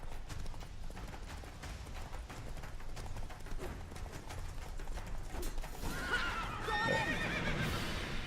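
Roach, Geralt's horse in The Witcher III, whinnies over a low game ambience of hoofbeats and rustle, the neigh rising clearly near the end, fairly close and without talk.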